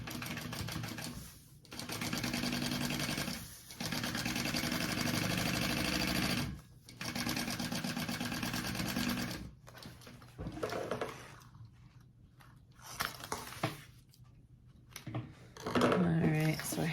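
A sewing machine basting the top of a tote bag runs in steady whirring bursts with short pauses, fairly quiet and close, as a person talks in between.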